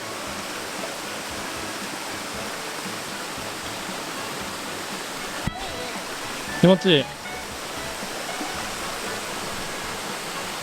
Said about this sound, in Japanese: 滝つぼ3つあるよ。